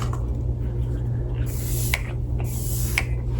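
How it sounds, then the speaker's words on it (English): Two short hissing bursts of a primer and setting spray bottle, close to the microphone, over a steady low hum. "It's a primer and a setting spray"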